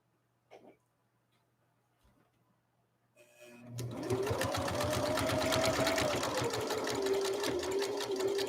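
A Husqvarna Viking Emerald sewing machine starts up after a few soft clicks and stitches a complex decorative pattern with tri-motion feed, a loud close whirring hum whose pitch gently rises and falls as it runs.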